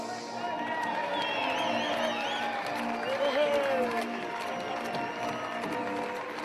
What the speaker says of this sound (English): round of applause for Mr. Kenny Agus